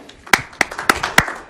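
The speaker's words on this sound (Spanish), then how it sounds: "Podemos dar un aplauso por ese concepto" A few sharp, evenly spaced hand claps from a church audience, about five distinct claps in quick rhythm, close and fairly loud with no talking over them.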